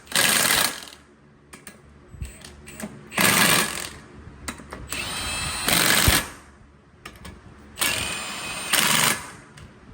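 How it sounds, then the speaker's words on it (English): An impact power tool drives brake bolts on a heavy 40,000 lb bus, firing in several loud hammering bursts of about a second each, separated by quieter pauses with clinks of metal. "These are going to get tightened to 200 foot-pounds"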